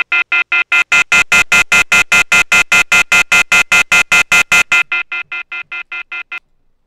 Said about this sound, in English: So we're going to establish another call with our guest on the phone.